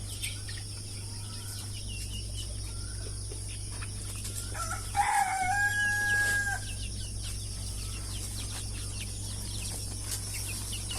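Free-range country chickens and their chicks roam a farmyard; a hen gives a couple of clucks midway over a steady background hum, with scattered faint chirps throughout.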